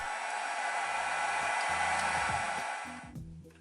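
A heat gun roars with a steady, even airflow hiss while heat-forming small thin plastic pieces for an Infinity Gauntlet replica, then cuts off near the end, leaving faint low clunks and handling sounds.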